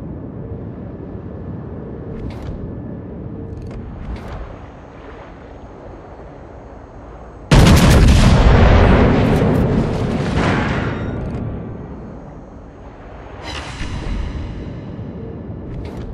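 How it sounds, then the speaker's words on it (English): Warship artillery salvo in World of Warships, a sudden loud booming blast that rumbles and fades over several seconds, with quieter distant thuds and low engine and wind noise before and after. "All stations, concentrate fire on the target."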